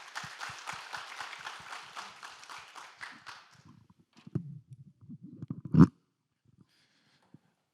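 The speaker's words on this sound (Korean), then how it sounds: "박수로 모셔보겠습니다." Applause from an audience at a Korean results-presentation event, a dense patter of clapping that fades out over a few seconds, followed by scattered thumps and handling noise near the microphone.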